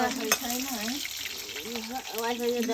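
Fish and onion sizzling in a pan for a fish curry, a steady close frying hiss with occasional stirring scrapes, heard under a person speaking throughout.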